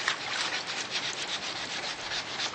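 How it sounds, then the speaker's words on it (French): Lacquered surface being hand-sanded between coats in traditional Vietnamese lacquer work, a steady, faint rhythmic rubbing of repeated short strokes heard up close. "Objets et meubles reçoivent 5 à 7 couches de laque suivies d'un ponçage à chaque fois"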